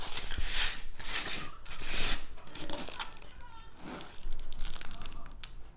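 Plastic bags of pre-bagged diamond painting drills crinkle and rustle up close in steady handling bursts, with no talking.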